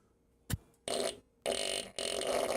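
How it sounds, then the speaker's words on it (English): Real farting noises from an electronic gadget on a soldering bench, picked up close by a lapel microphone: a sharp pop, then three sustained buzzy blasts of about half a second each, loud and with no talk. "the fart noises are actually farting"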